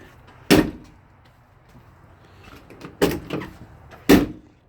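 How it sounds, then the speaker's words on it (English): Door of an old, dusty classic project car closing: three close, heavy thuds with a rattling follow-through, spaced out over a few seconds in a quiet garage. "Trying to figure out if the door's supposed to close like that or not."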